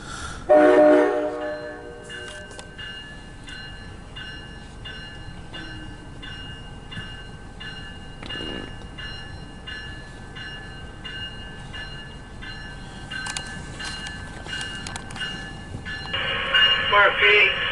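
An eastbound MARC commuter train departs Gaithersburg on track 2, its low rolling rumble steady and fairly distant, with a horn blast at the start and another toward the end, while a radio voice speaks.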